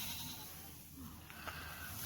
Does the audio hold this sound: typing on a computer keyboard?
no